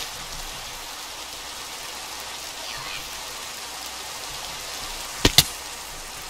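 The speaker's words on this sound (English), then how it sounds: "This rain makes it difficult to pinpoint." Steady, soft rain hisses evenly in the Minecraft mod Pixelmon, with two sharp clicks near the end cutting through the downpour.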